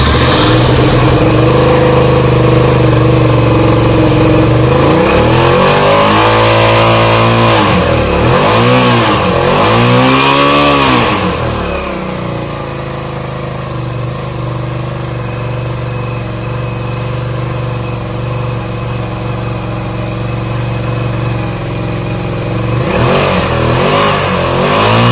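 A Suzuki SV650 motorcycle engine with a suspected faulty stator revs up several times in sharp, rising bursts, then drops back to a steady idle before revving again near the end.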